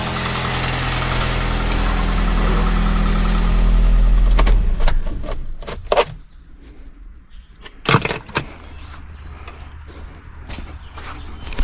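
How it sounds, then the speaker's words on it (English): A Kia Soul engine idles with a steady low hum for about four seconds and then shuts off, followed by quiet broken by several sharp clicks and knocks from inside the vehicle. "I'm gonna go in the vehicle and turn off the engine."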